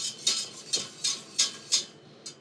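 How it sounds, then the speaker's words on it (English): A whisk knocks rhythmically against a pan as milk is beaten vigorously into a sauce, about seven quick bright metallic strokes, close and fairly clear with no talking. "after you put the milk in, make sure you're whisking it really vigorously."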